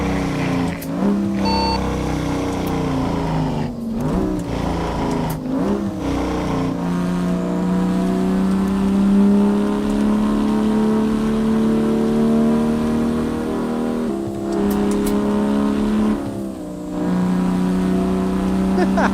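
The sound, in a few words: truck engine revving in American Truck Simulator video game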